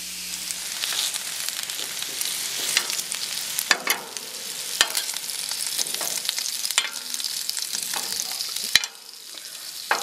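Australian lamb chops searing in a hot pan, a steady loud sizzle and hiss with a few sharp spits and crackles scattered through, no talking.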